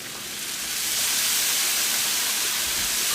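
Onions with red wine vinegar sizzling in a hot skillet while cooking a smash burger topping, a steady close hiss and crackle that swells slightly and holds with no talking.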